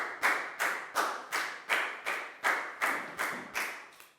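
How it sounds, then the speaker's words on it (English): A Year 4 classroom applauds a student: about ten evenly spaced, fairly loud claps in a steady rhythm, each burst sharp at the start and quickly fading, with no talking. "High five and a big round of applause for Chew"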